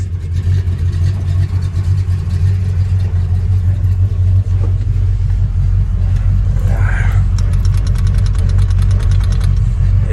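A 1986 Chevy square body truck idles in neutral, its steady deep low rumble close and loud throughout, with a brief faint higher chirp partway through.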